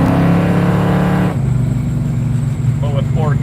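A Dodge Barracuda's engine revs loudly while driving, a steady harmonic drone that drops in pitch partway through as it shifts, with a voice talking over it.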